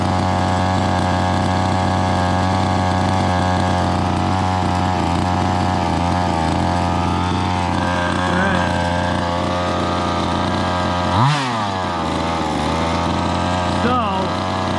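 A 1:5 scale RC car engine idles steadily and loud for the whole stretch, a continuous buzzing drone with a brief rev blip near the end.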